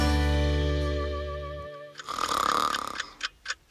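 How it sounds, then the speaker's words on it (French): Snoring of a sleeping cartoon character for a French children's audiobook: a long, loud droning inhale followed by a few rough, rhythmic snorts and wheezes, close up with no talking. "Dans sa chambre, Petit Poilu dort profondément"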